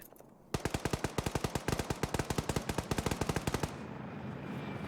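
Heavy machine gun fired from a vehicle gunner seat in a military video game: a sustained rapid burst of about three seconds of evenly spaced, loud, punchy shots, then a steady engine hum.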